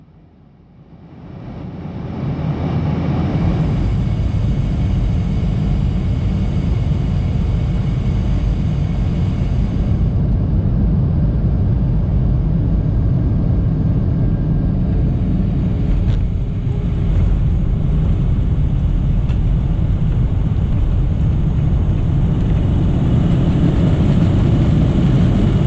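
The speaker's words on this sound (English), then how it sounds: "landing on runway 17 left" A Flair Airlines Boeing 737-400 touching down on runway 17 left at Calgary, heard from inside the cabin as a loud, steady roar of engine and rushing air that swells in and holds throughout.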